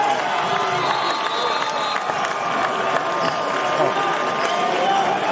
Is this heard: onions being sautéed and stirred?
no